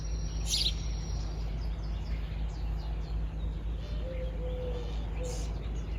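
Birds chirp in a June garden beside a greenhouse, with thin, scattered calls that stay faint and distant over a steady background hum, and no talking is heard.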